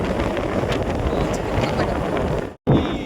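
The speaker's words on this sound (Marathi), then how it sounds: "एवढा वारा आहे का असं एवढा वारा आहे" Strong wind at Vishramgad hill fort buffets the microphone in a continuous roaring rumble, cutting out briefly near the end before gusting back in just as hard.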